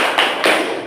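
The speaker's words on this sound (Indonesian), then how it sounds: "Siapa suka hati tepuk tangan." Two sharp hand claps ring out close by, about a quarter second apart, during a children's clap-along song in an Indonesian classroom-style lesson; each clap trails off into a soft room wash with no voices.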